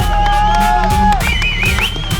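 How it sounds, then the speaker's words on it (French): Stadium crowd at a sports ground cheering and shouting for a performer named Aziz, a dense, loud continuous roar with whoops and rising voices throughout. "Un maximum de bruit pour Aziz s'il vous plaît"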